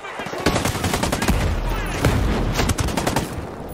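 Rapid bursts of gunfire from Ghost Recon Breakpoint crackle in quick, uneven volleys, loud and close, with several heavier reports standing out among the repeated shots.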